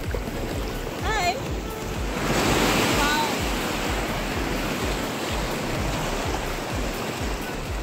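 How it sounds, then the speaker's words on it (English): Surf washes in at Butterfly Beach in Goa, a constant broad roar with a swell in the middle, as voices and a short whistle-like sound rise briefly over it. "This is the butterfly beach."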